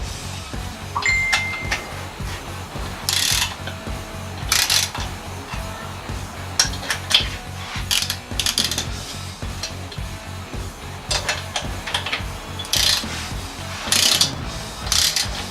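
A torque wrench tightening cylinder head bolts on a 1968 Baja Bug clicks in rapid repeated bursts, close and loud, with short pauses between strokes and metallic gear-like chatter throughout.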